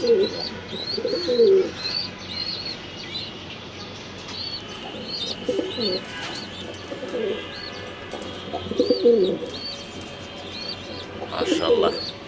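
Pigeons coo in repeated low, throaty bouts a few seconds apart inside a pigeon breeding room, while small birds chirp steadily in the background.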